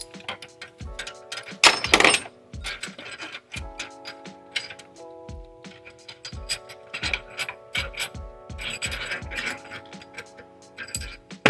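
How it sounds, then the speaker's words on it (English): A ratchet turning a bolt on a Chrysler 3.5L engine, repeated close metallic clicking in quick irregular runs with occasional tool clinks, no talk. "Let me get that ratchet."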